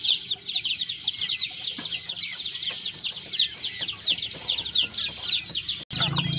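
Chickens cluck and chatter continuously near a jungle fowl cross rooster in a village yard, a dense busy flock sound with a sharp knock near the end.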